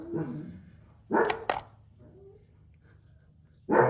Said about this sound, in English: Dogs are excited about something.